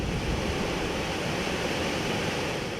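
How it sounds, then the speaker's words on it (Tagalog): Moling Falls, a waterfall in Barangay Labnoy, San Jacinto, Pangasinan, sends out a steady, loud, unbroken rush of pouring water that fills the whole moment without pause. "Sa lagaslas ng malinis na tubig, tiyak na mahihikayat ang sinuman na maligo sa tinaguriang Moling Falls sa Barangay Labnoy"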